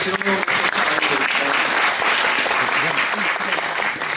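Audience applause at a Korean agricultural policy debate and talk concert with local government heads, dense and steady throughout, with a voice speaking over the start.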